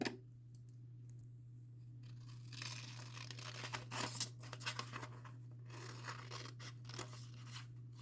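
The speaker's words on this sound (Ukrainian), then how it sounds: "Так, вирізаємо ножицями ялиночку." Scissors cut a folded paper Christmas tree shape for a decorative New Year card craft, giving close, quiet snips and crisp paper rustles in irregular bursts over a steady low hum.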